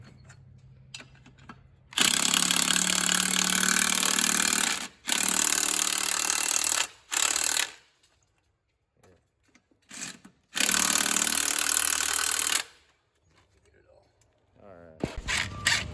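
A ratchet tightens wheel nuts on an old 1970s CJ Jeep in three long bursts of hard, buzzing clicking, separated by pauses and a few short knocks, loud and close.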